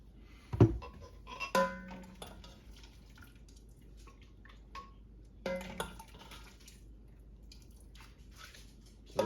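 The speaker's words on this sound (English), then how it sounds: "This is the part where we get everything ladled into the blender" Hot sauce mixture of cayenne, cherry tomatoes and garlic being ladled into a blender: wet splashes and squishy pours with clinks of a metal ladle against the container, coming in a few separate bursts with quiet gaps between them and no voices.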